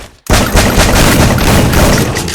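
Loud bursts of automatic gunfire in the Free Fire video game erupt after a brief quiet start, then continue as a dense, rapid volley right up close.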